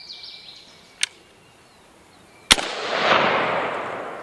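A G-Force Arms AR-12 12-gauge shotgun fires a double alt buck round outdoors: a faint pop, then one loud sharp blast followed by a rushing rumbling tail, with birds chirping faintly in the background.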